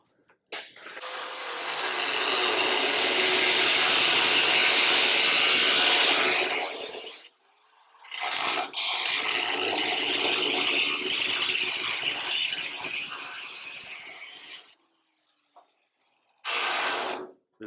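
A disc cutter cuts a hole into the metal of a COE truck's headlight area with a loud, close, rasping grind. It runs in two long passes broken by short pauses and then a final brief burst, with no speech.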